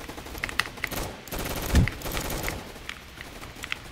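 Bursts of automatic gunfire and single shots in Roblox Gunfight Arena crack out in quick uneven clusters, one heavier blast in the middle, fairly close and loud.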